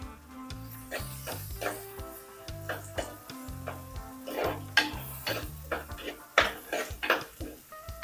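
Onions sautéing in a pan for a drumstick curry: soft sizzling with light stirring clinks and scrapes, fairly quiet beneath background music.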